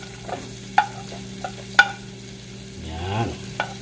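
Onions and garlic sizzle softly in a pan beneath a steady hiss, punctuated by a few sharp clinks of a utensil stirring against the metal.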